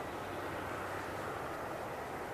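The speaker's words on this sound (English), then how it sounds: "Got a Ryanair Max coming in next." A Ryanair Boeing 737 MAX arriving at Manchester Airport gives a steady, faint broadband jet roar, continuous and distant, with no voices.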